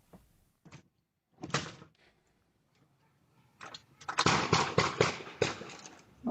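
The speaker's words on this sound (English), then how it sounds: "The gunshots are heard in a video captured by her doorbell camera." Several sharp gunshots caught by a residential doorbell camera in the early morning, a couple of isolated bangs followed by a denser burst of rapid, fairly loud reports with no talking.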